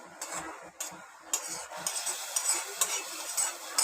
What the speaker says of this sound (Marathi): हे काजू बदाम पण याच्यामध्ये मी टाकून घेणार आहे